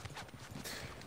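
Horse hooves clip-clop in a quick rhythmic gallop in the Red Dead Redemption 2 online game, brief and fairly faint.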